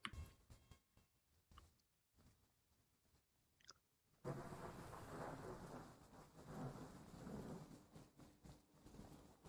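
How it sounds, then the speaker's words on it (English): Thunderstorm in Train Sim World 3 on the Edinburgh to Glasgow line: quiet rumbling and patter at first, then a sudden surge into loud, sustained rain and rolling thunder that stays heavy to the end, with no voices. "Thunder and lightning, very, very frightening."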